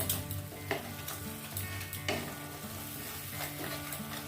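Poppy seed paste with a green chili sizzles steadily in a pan for sahebi begun, with occasional stirring scrapes over a constant close frying hiss and no one talking.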